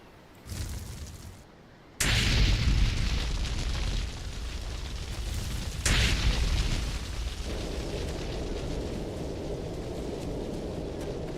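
A Molotov cocktail bursts into fire in a video game, with a loud booming explosion followed by a second blast and a sustained roaring, crackling blaze that carries on steadily at close range, no voices.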